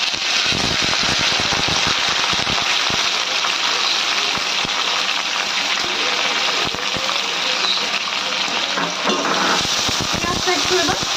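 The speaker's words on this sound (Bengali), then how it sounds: "ভালো করে ফোড়নটা ভেজে নিতে হবে।" Spice tempering with two large chopped onions frying for chicken korma, a loud dense sizzle with frequent scraping clicks of a spatula stirring in the pan, close and continuous.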